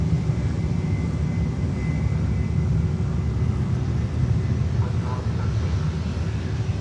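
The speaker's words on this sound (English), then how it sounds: "JetBlue is taking off next from 10 left." A JetBlue airliner takes off from runway 10 left at Fort Lauderdale Hollywood International Airport, a broad steady engine roar held at a distance throughout, with a brief word spoken over it.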